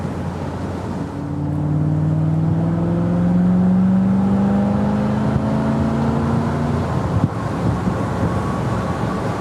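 A 1970 Corvette with a 350 V8 pulls away and accelerates, engine rising through several gears in long climbing sweeps with gear changes, heard from inside over wind noise.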